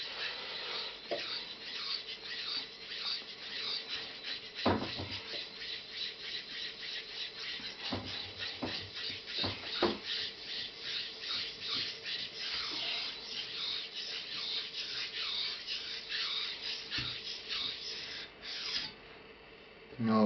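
A Dovo straight razor rubbing back and forth on the coarse side of a sharpening stone makes rhythmic, close, scratchy rasping strokes that repeat steadily for about twenty seconds, with a few sharper knocks and no talking.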